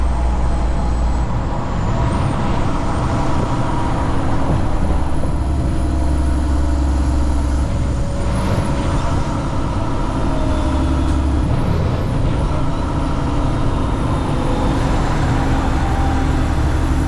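A semi truck drives through snow and ice in Nebraska, its engine and turbo giving a steady loud droning rumble with high whine and wind noise throughout, no talking.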